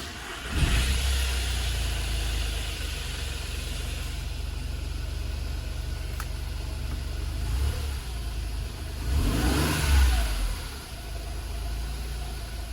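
A Volkswagen Fox engine cranks and catches on its first start after a cylinder head replacement, then idles with a steady low rumble, revving up twice along the way.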